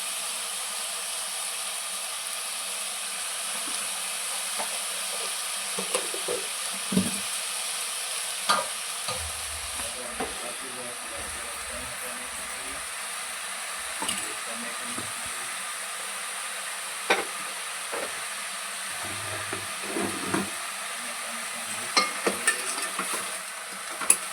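Drumstick leaf bhaji with a little salt simmering in a pan, a soft continuous hiss and sizzle with intermittent stirring scrapes and occasional clinks of a utensil, close and fairly quiet, with no talking.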